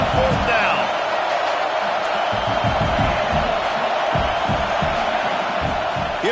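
A football stadium crowd roars as a broad, steady wash of noise during a 4th-down play, with a commentator talking over it throughout.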